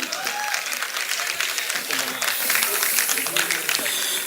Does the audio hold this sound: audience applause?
yes